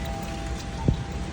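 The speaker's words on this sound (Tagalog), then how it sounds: "Umuulan." Rain falls on a walk to a train station, a steady soft hiss of drops spread across the whole moment, with one brief, sharper patter standing out near the end.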